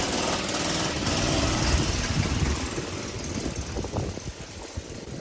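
The small engine of a Murray Track 2 minibike, running without an air filter, idles close by with a steady, rough, loud chugging rumble that continues throughout.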